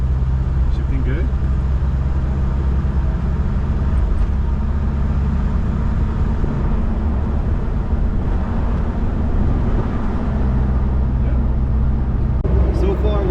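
A Jeep Wrangler with a swapped engine drives along, its steady low engine drone and road rumble continuous and close inside the cab, with people talking over it.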